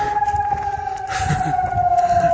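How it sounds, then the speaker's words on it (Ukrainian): Air raid siren sounding in Kharkiv in the early afternoon, a steady sustained wail with a clear tone holding across the whole stretch, moderately loud over low background rumble and street noise. "Близько другої дня лунає повітряна тривога."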